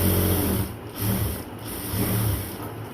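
A sewing machine stitches the second side seam of a dress, giving a close, steady mechanical whir with regular rhythmic pulses and no talking.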